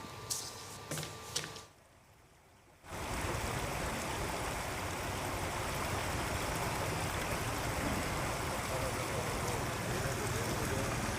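Water gushing steadily from a leaking Cauvery drinking-water supply line in Bengaluru, a dense continuous rush that starts abruptly after a brief quieter gap and runs on loudly to the end, with voices heard before it.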